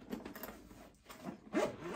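A zip is pulled shut on a mobile hairdressing trolley case, giving several short scratchy runs of zipper teeth, close and quiet, with a brief pause before a final faster pull.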